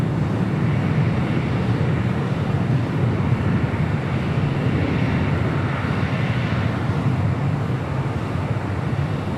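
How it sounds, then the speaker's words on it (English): A Qantas jet departs LAX on runway 25 right, its broad steady engine roar filling the air at even loudness with no talk over it. "Next departure on 25 right. It's the Big Q, made that left-hand turn at the Alpha 8."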